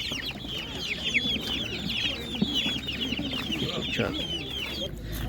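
A flock of hens at an animal market in Ivano-Frankivsk clucks continuously at a moderate distance, with overlapping soft clucks and a few sharper calls.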